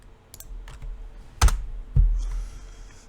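Brief bursts of computer keyboard typing during a Linux terminal login session, a few scattered keystrokes followed by two louder clacks, close and alone with no talking.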